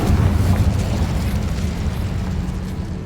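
A loud, sustained explosive roar from the Confringo fire spell in the game Hogwarts Legacy, a dense close blast that holds steady and slowly thins out over a few seconds.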